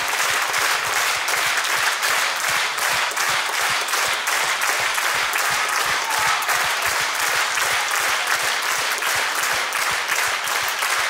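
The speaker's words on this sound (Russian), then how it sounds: "Ваши аплодисменты, друзья, великому композитору" A concert hall audience at a gala concert honouring a composer's centenary gives sustained, dense applause, loud and even throughout with rhythmic clapping woven in.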